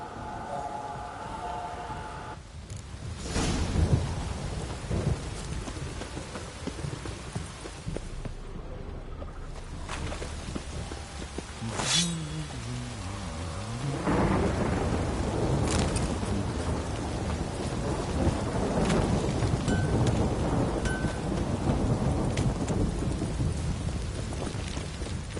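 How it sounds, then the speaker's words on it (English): Steady rain pours in the Witcher 3 video game, with rolling thunder rumbling at intervals over about 25 seconds and no talk. "Don't stop raining, my arse will rot off."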